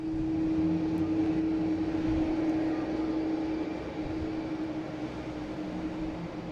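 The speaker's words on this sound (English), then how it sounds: "Next arrival is Delta coming in from San Antonio." A Delta airliner arriving from San Antonio at Boston Logan Airport gives a distant, steady engine drone with a sustained whining tone that slowly fades.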